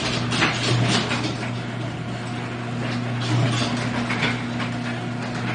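A smart garage door closes with a steady mechanical drone from the opener's motor and gears, a faint ratcheting texture running throughout at moderate level, with no speech.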